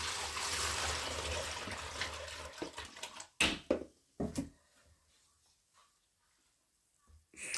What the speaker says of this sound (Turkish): Ve suyumu koyuyorum.